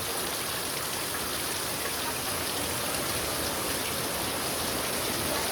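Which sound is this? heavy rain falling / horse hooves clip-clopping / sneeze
heavy rain falling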